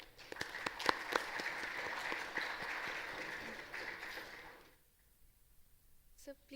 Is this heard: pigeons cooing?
no